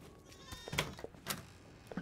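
Goats bleat in a co-op horror video game, a few short wavering cries up close, alone with no talk over them.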